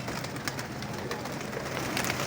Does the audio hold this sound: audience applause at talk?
no